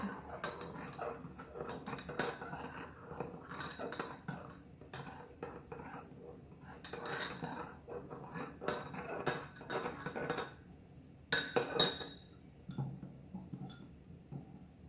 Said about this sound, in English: I'll give these a stir. And get the sugar to dissolve a little bit.